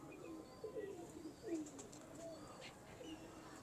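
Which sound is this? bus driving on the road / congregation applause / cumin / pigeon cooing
pigeon cooing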